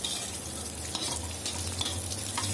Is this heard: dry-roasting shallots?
yes